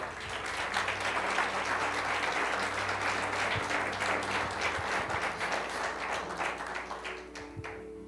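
A church congregation applauds during a Spanish-language sermon, a sustained, even wash of many hands clapping in a large room, fading a little toward the end.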